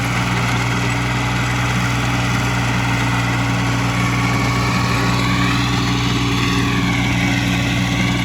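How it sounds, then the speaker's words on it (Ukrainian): A steady tractor engine drones continuously at close range while tilling a field, a low rumbling hum with a constant pitch throughout and no voices. "Трактор нормально відпрацьовує."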